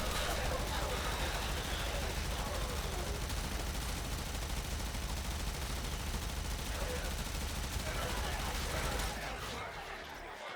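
Archgun fire in the video game Warframe, a dense, continuous rattle of rapid shots and booms running for several seconds before cutting off, with a voice talking over it.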